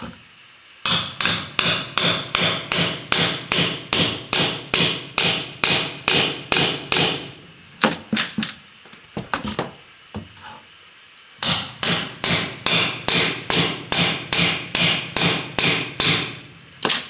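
Old subfloor being torn up by repeated hammering during carpet removal, a rapid regular series of sharp close knocks, pausing midway for scattered clatter before the steady pounding resumes.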